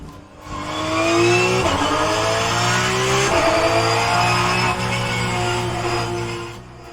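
A Porsche 991 GT3 engine in a racing video game, loud and sustained, revving up through the gears with sharp shift drops and rising whine, accelerating hard with no voices.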